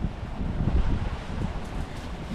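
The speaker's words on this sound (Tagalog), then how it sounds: "Malamig po dito at mahangin." Steady wind buffeting the microphone under a tree in a cold, windy fishing spot, a broad continuous rush with gusty low rumble and no voices.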